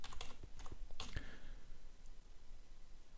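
A few quick keystrokes on a computer keyboard, soft and close, a short cluster of clicks followed by quiet.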